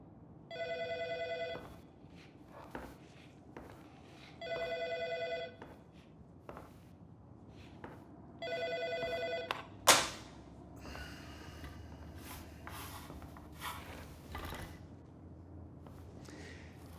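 A telephone rings three times in distinct bursts about three seconds apart. A sharp thud follows, then quieter rustling and movement.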